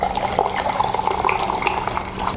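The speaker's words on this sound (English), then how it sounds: "I'm gonna pour it back in there" Water pours steadily into a hiking kettle, either the Expedition Research or a Trangia model, giving a close, continuous splashing trickle that holds at an even level throughout, with no voices.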